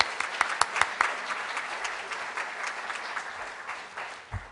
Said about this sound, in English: Let's give them all a rounding applause.